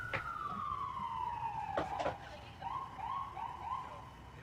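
An ambulance siren wails with a long falling tone, then switches to a run of quick rising yelps at moderate volume over a steady background hum.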